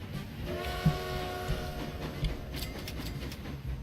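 A long train in Transport Fever pulls away with a sustained horn or whistle tone that swells and fades, above a low rumble of rolling wagons, moderately loud and without talk.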